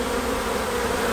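Bees at a beehive make a dense, continuous buzz, loud and close, a steady hum of many insects with no pauses and no voices.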